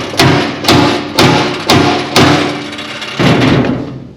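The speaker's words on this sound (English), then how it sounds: "we're gonna tap these bolts now. Get them started a little" A hammer taps flathead bolts into a seat mount, giving six loud, evenly spaced thuds that ring briefly, each about half a second apart, the last after a short pause.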